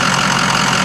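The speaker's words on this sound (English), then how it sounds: "Alright, so here's our engine." A Ford Power Stroke diesel engine runs loud and close in a brief burst, a dense, steady mechanical roar with no voices.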